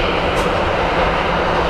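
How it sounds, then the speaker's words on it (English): Train rumbling past near Sky Harbor International Airport in Phoenix, a steady broadband roar filling the whole short stretch, loud and close with no voices. "Train."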